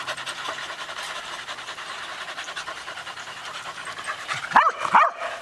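Rapid, breathy dog panting continues steadily close by, with a couple of brief yips or whines near the end.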